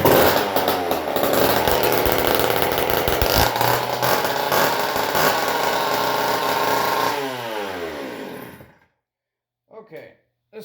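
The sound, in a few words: old Homelite chainsaw engine running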